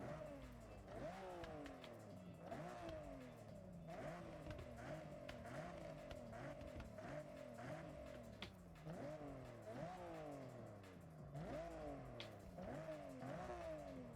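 A car engine in Forza Horizon 6 fitted with a new exhaust and turbo upgrade revs repeatedly, rising and falling in pitch in a steady cycle of bursts, sounding continuous and close with faint tire noise underneath.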